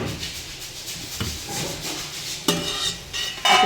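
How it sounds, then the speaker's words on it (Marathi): Dry masala ingredients, including hand-crushed chillies, are tipped into a mixer grinder jar: soft rustling and scraping, then two sharper clattering spills near the end, close by with no talk. "आता हे सर्व मिक्सरच्या भांड्यात ओतून घ्यायचं आहे."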